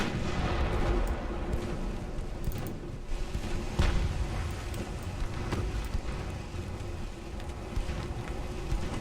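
Naval guns fire high-explosive shells in a dreadnought-era warship battle game, with repeated heavy booms over a constant roar of wind and sea, loud and dense throughout.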